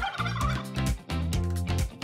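A turkey gobbles in loud, close, rapid bursts of warbling calls, three quick rattling phrases separated by brief pauses, with no voices.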